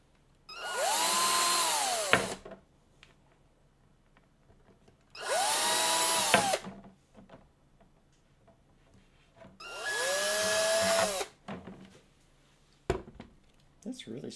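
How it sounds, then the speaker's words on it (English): A power drill bores out small holes in a model kit assembly, three separate whirring bursts of about two seconds each rising in pitch then winding down, close and loud, with quiet pauses between. "I need to drill out some holes."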